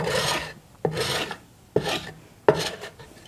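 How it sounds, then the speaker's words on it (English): A handsaw cutting across the grain of wood for a birdhouse in a woodshop: four rasping strokes, each starting with a sharp bite and fading out, in a steady rhythm and close up. "The grain is going in this direction, and I'm cutting in this direction, which is resulting in some splinters here at the end."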